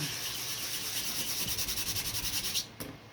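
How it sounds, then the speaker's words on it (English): Quick sanding of model kit parts to knock off burrs, a rapid, steady back-and-forth rubbing scratch repeated close up for about three seconds, ending with a brief clatter. "So I just give it a real quick sanding to knock any burrs off."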